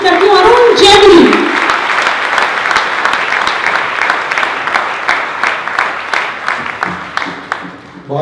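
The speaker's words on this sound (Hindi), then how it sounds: "तो आइए आपकी जोरदार ठहाकों के लिए जोरदार तालियों के बीच आमंत्रित करती हूँ अरुण जेटली।" At a Hindi comic poetry gathering, an audience welcomes a poet with loud, close clapping that starts with a brief voice and cheer, then thins into scattered claps near the end.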